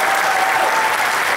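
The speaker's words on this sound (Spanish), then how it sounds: "para quien pido un gran aplauso" An audience applauds at the close of an artistic tribute event, a dense, steady clapping that fills the whole moment at even loudness.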